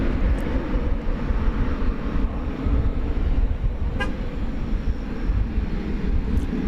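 A Boeing 737 at DFW Airport at night brings a loud, steady low roar of jet engines that fills the scene, with a brief faint tone partway through.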